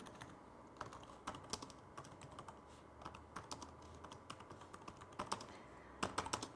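Typing on a computer keyboard while setting up an MS PowerPoint presentation: a steady run of close, crisp key clicks with irregular rhythm and a few louder taps, over a quiet room hum, with no talking.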